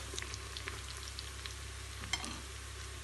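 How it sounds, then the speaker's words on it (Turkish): Beef for Turkish forest kebab sautés in a pan with a continuous close sizzle and a low steady hum underneath, plus a few faint clinks of stirring and no voices. "Etimiz suyunu çektikten sonra 1-2 dakika daha kavurduk."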